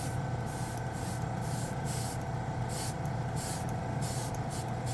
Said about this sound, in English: compressor just kicked in